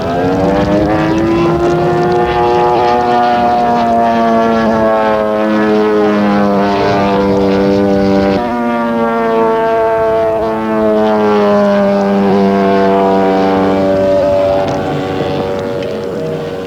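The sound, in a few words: Bücker Jungmeister aerobatic model plane flying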